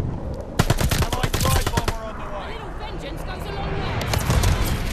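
Gunfire in the video game Call of Duty Vanguard, with several loud, sharp shots clustered early and a few more near the end, over game ambience, with a voice talking.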